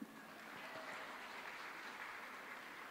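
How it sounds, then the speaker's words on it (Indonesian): Faint, distant crowd applause in a hall during a talk about bullying in the medical profession, a soft continuous patter without distinct individual claps. "Tepuk tangan dong"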